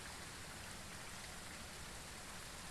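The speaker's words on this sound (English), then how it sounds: "And it's raining." Steady rain pours in the video game Phasmophobia, a dense, even hiss of falling water with no pauses, soft and continuous throughout.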